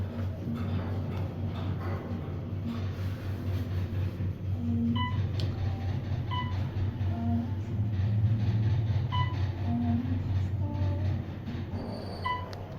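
A steady mechanical rumble and hum of an Otis traction mid-rise elevator in motion at the Palazzo, Las Vegas, with faint periodic clicks and soft music over it.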